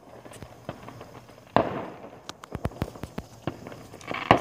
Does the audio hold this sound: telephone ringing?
no